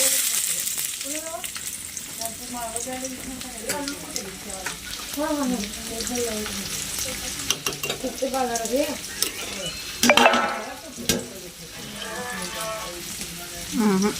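Curry leaves and onion frying in a hot pan, a dense close sizzle with occasional stirring clatter, under someone speaking over much of it.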